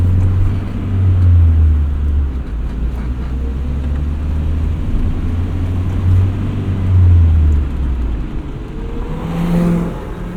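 A 1979 first-generation Honda Prelude with a five-speed manual driven on the road, its engine humming low and steady, rising and falling in pitch through gear changes, with road and wind noise throughout.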